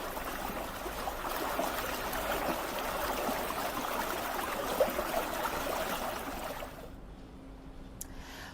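Broad rushing, gurgling water close by as a cruise boat sinks in the Bargi Dam reservoir near Jabalpur during a sudden storm, a steady wash that drops away abruptly near the end, leaving quieter background.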